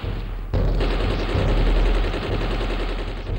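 Sustained automatic gunfire, a brush-fire burst that erupts after a brief quiet start and rattles on loud and dense with a low booming rumble underneath, no voices.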